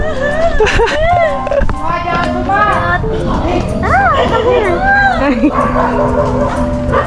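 Dog barks and yips mixed with excited whimpering, with children's voices chattering close by throughout.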